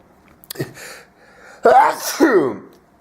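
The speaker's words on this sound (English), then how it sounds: "I've been sneezing ever since I mowed my friend's lawn yesterday" A short sharp intake and a nasal burst, followed by one loud, close sneeze with a strained, voiced tail.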